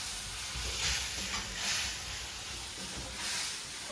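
Bhungla, a Bhavnagar-style fried snack, sizzles in hot oil in a pan, a steady close hiss with soft swells of crackle and no talking.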